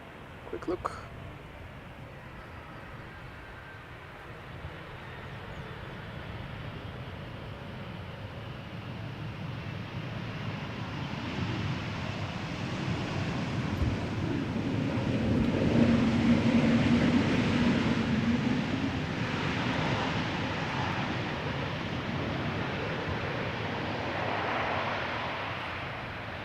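An Embraer E2 jet arrives at Schiphol's Polderbaan runway with a broad roar that swells gradually and peaks in the middle before easing slightly, heard from a distance outdoors with no talking over it.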